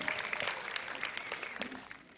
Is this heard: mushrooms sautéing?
no